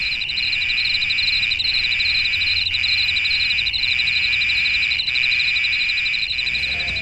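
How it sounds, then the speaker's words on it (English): A loud, continuous high-pitched insect drone with a pulsing buzz, steady throughout with faint periodic clicks. "Cicadas, small, noisy, flying insects"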